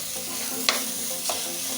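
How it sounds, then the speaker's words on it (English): Rice frying in hot oil and being stirred: a steady close sizzle throughout, with a couple of sharper scraping stirs standing out briefly. "Adding the rice now into the oil."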